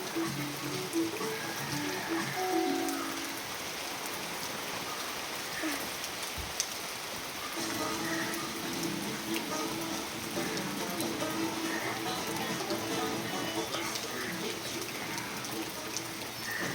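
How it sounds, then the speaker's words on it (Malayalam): Steady rain falling outdoors and collecting in puddles along the roadside, a continuous broadband patter that holds evenly throughout, with faint bird calls in the background. "സൈഡിലൊക്കെ കുളമായിട്ട് കിടക്കുന്നുണ്ട് മഴ പെയ്യുന്നത്."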